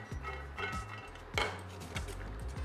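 Nuts being swirled in olive oil in a cold pan, giving a handful of distinct clattering, clinking rattles at irregular intervals, fairly quiet and close.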